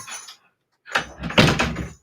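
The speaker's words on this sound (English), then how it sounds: "I'm going to close the door." A household door swings shut with a soft rustle, then a louder closing thud and rattle of the latch, heard nearby in a quiet room.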